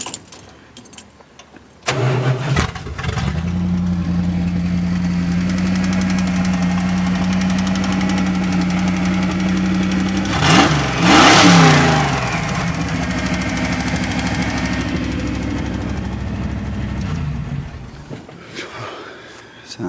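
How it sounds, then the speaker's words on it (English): A demolition derby truck engine starts up and idles with a rough, knocking throb, then revs sharply in a loud burst before settling back to a steady lumpy idle, close and dominant throughout. "Sounds ready again for a derby truck."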